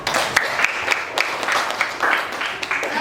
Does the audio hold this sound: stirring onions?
no